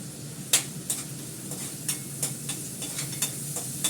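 Spices with turmeric and ginger paste fry in a hot pan under a steady sizzle, while a spatula scrapes and clinks at a regular pace of about twice a second, close up.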